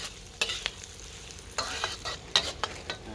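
Shallots, then garlic, stir-fried in reused oil in a pan while making chili paste with pork belly, with close spatula scrapes and sizzling in short bursts over a steady frying hiss.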